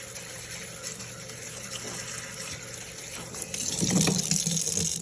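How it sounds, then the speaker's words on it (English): Fresh strawberries are rinsed under a running kitchen tap, a steady close rush of water that swells louder and splashier near the end as the berries are moved in the stream. "we're going to rinse them really quick"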